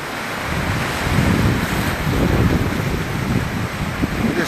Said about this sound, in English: The sea, there's nothing but water.